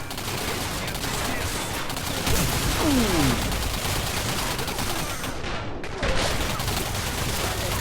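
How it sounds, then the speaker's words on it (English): Gunfire in a first-person shooter, sustained rattling bursts of shots over a busy battle soundscape, with a brief silent cut partway through. "I'm gonna have to take him out with a sniper rifle"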